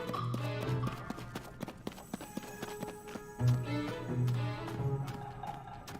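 Undead horses gallop in the video game Zelda: Tears of the Kingdom, rapid hoof clip-clops in rolling bursts over game music tones and low swells, fairly close and steady, without talk.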